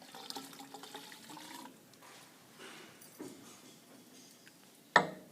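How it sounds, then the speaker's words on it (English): Water being poured into a container during a chemistry demonstration, a soft, faint liquid trickle and splash running for several seconds, ending in a brief sharp clink near the end, with no talking. "So I'm just adding some water in here"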